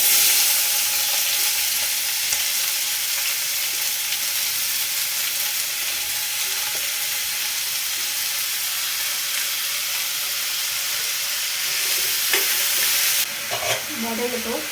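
Onions sizzle and sauté in a pan for prawn gravy, with a loud, steady frying hiss that runs throughout and the scrape of stirring near the end, close up.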